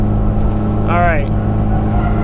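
A Ford Fusion–engined Mazda Miata drifts with a loud, close engine drone throughout, a brief rising-and-falling rev spike from a clutch kick in the middle, with a voice speaking over it.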